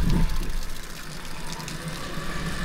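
Water runs from an outside spigot into an RV tankless water heater, a steady low rushing flow that starts with a stronger burst and then settles into an even, moderate stream.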